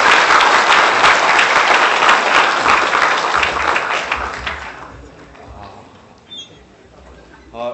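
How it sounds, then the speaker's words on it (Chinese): Warm, dense applause from a lecture audience welcoming a professor to the podium, loud and sustained for about five seconds before thinning out and fading into quiet room sound. "让我们用热烈的掌声欢迎郑教授给我们讲座"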